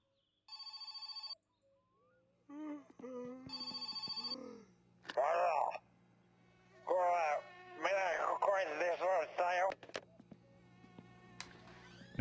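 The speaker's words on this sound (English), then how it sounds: "Yes, a phone call." A phone ringing in the video game My Summer Car, repeated electronic ring bursts over a low steady hum, interleaved with a voice speaking.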